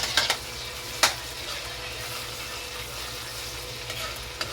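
Garlic, onion, ginger and tomato sautéing in a pan for sinigang give a steady close sizzle, broken by a few sharp scraping clicks from stirring, with a low hum underneath and no talking.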